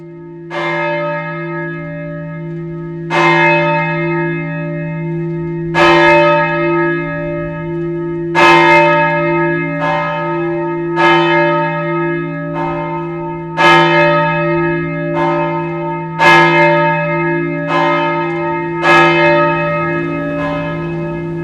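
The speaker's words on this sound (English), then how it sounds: "The Church of St. James has a ring of 6 bells in the key of G." A ring of six church bells in the key of G at the Church of St. James in Clapham, North Yorkshire, with a half-ton tenor, pealing loudly in a steady sequence of struck tones that leave a sustained low hum ringing underneath.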